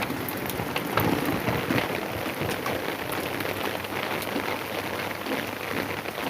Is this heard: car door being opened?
no